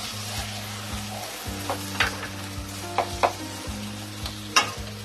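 Potato and parwal (pointed gourd) being stirred with spices in a pan for a Bengali korma, giving scraping spoon strokes and a few sharper clinks over a low steady hum and faint sizzle, with no talking.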